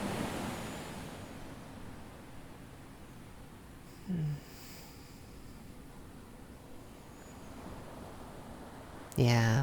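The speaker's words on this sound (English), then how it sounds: "I love the sound of those waves." Ocean waves wash steadily onto a beach as a soft, continuous surf hiss, with a brief low thump partway through and a louder burst at the end.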